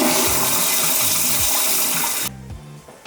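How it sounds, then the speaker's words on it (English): A HOROW N30 non-electric bidet toilet auto-flushes with a loud rushing water surge that ends abruptly, followed by quieter gurgling and refilling trickles, heard up close with no voices. "the toilet automatically pre-wets the bowl once the seat is occupied and triggers an auto flush as soon as the user stands up"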